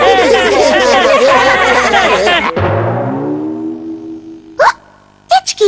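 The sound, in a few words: cartoon character hiccuping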